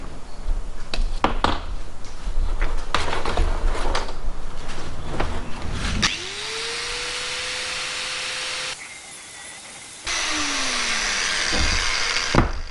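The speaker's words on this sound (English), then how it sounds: "Let's get this old rebar handle ground off of this collar." An angle grinder cuts an old rebar handle off a steel collar from a rusty drill press. Loud, close grinding with scraping bursts comes first, then a steady whining run-up that drops away and starts again.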